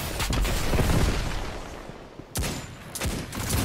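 Rocket explosions and heavy gunfire in a Destiny 2 Crucible match, with a dense rumbling barrage followed by two sharp, loud blasts near the end.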